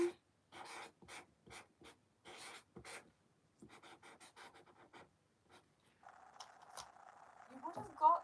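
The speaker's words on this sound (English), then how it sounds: "I'm gonna write your name." A pen scratches a name onto paper in a series of short, close strokes separated by brief gaps, followed by someone speaking.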